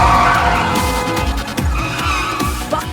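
A car drives off with its tires skidding and squealing loudly over an engine roar, a close, sustained screech with a few sharp bursts, in a dubbed animated action scene.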